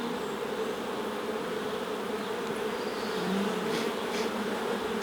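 Honey bees buzz near an open hive during a swarm-prevention inspection, a dense, steady drone close by, with one bee hovering near the listener's hand and no voices.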